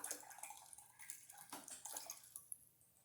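Water splashing and trickling over plant roots to rinse away soap, a close, wet running pour with small drips and gurgles, tapering off near the end.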